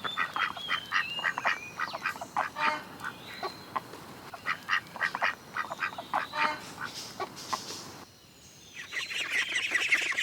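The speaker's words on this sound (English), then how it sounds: "duck," A farm duck quacks in a rapid series of loud, nasal calls, close and clear, before a brief lull and a final burst of noisy calling.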